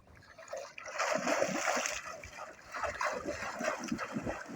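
Water splashing broadly as someone swims in a river, a busy, continuous wash of splatter and dribbles at close range, with voices faintly mixed in.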